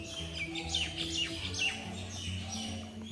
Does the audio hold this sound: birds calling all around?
yes